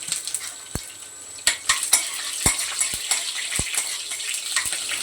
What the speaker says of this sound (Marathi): टमाटा टाकते आणि नंतर मग कढीपत्ता